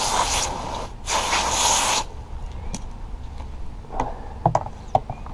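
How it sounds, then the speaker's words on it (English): A steady hiss of water spraying from a 2-gallon pump sprayer for about two seconds with a short break, then fades into quieter clicks and small knocks. "Spray my hands off."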